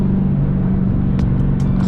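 A Dodge Challenger engine drones steadily and loud from inside the car while driving, a constant low hum with no clear change in revs over the short stretch.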